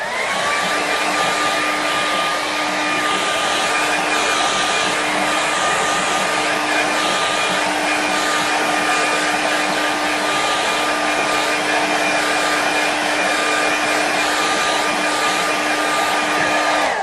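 Hair dryer blowing on fresh paint to quick-dry it: a loud, steady whirring roar with a constant hum, running alone and unbroken.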